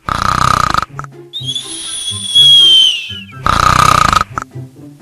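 A cartoon character in a Hindi horror cartoon snores while sleeping after eating all day in jail, with loud rhythmic snore-like sounds and a whistling tone between two bursts of music.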